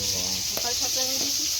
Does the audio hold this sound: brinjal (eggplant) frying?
yes